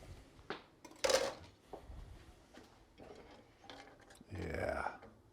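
A spoon clinks and scrapes inside a pot of thickening blueberry fig chutney in a few separate knocks, followed by a longer stirring scrape, close and fairly quiet.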